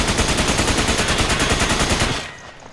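A machine gun in the video game Resident Evil 5 fires a loud, rapid, unbroken burst of evenly spaced shots for about two seconds, then cuts off into a fading tail.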